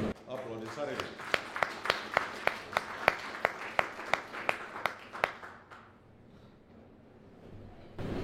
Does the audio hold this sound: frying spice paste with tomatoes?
no